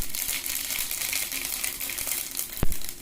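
Mustard seeds splutter and crackle in hot oil on a stove while horse gram is being cooked, a dense continuous hiss of sizzling with one sharp pop near the end.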